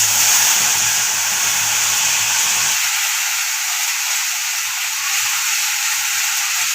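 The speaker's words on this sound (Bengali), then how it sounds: "আমি বেটে রাখা মশলাটাকে দিয়ে দেবো গরম তেলে।" Ground spice paste hits hot oil in a pan while cooking doi potol, giving a loud, steady broadband sizzle that holds through the whole stretch, with a low rumble dropping away partway.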